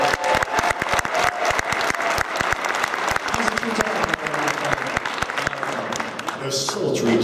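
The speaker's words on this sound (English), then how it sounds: "Give him a round of applause." Audience applause fills a PAX East 2013 convention panel, with dense clapping and cheering from a large crowd, sustained and loud throughout before easing slightly at the end.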